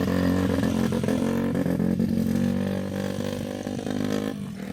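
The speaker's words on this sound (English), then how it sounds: "It's kind of backfiring quite a bit." A motorcycle engine with a fault in its valves runs loud and close, a steady mid-pitched drone with occasional sharp pops and crackles of backfiring, easing slightly toward the end.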